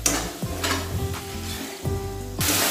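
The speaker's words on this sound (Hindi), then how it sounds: "अब इसमें मैं टमाटर डालूंगी, अब इसको मैं मिलाऊंगी और टमाटर को अच्छे से तरह से पका लूंगी।" Tomatoes sizzle and fry in a pan while being stirred, with scraping stir strokes breaking in every half second or so over a steady close sizzle, for jackfruit curry.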